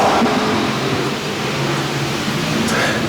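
American Vintage Modified race cars racing around the Waterford track; a loud, continuous roar of engines with dense rumble and no clear breaks, heard from close by.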